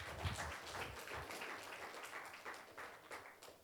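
A classroom mentoring session in which students clap to encourage a classmate, a soft, fairly distant patter of many hands that keeps a steady, loose rhythm throughout.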